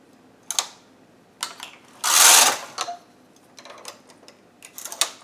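A Studio 150 chunky knitting machine carriage being run across its needle bed to knit a sample, with clacking mechanical clicks and ticks, one louder sliding whoosh in the middle, and a few scattered taps, all close up and without speech.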